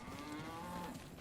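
A single low, drawn-out cow moo from the Diablo 2: Resurrected video game, heard alone and fairly faint, lasting about a second.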